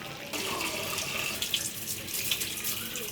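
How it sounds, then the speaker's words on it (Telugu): Water pours steadily into a pressure cooker holding mutton curry ingredients, a continuous splashing gush after a short quiet start, close and moderately loud. "వాటర్ అయితే పోసుకున్నాము."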